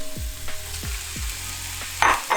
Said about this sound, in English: now we're gonna go ahead and add our chorizo to our pan